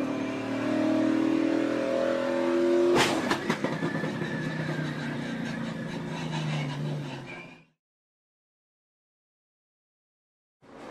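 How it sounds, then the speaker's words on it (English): A multi-car pileup at the Daytona 500 as race cars come out of turn four, with roaring engines, a sharp impact burst and grinding, scraping noise that fades out, followed by near silence. "Crash out of turn number 4. A multi-car pileup."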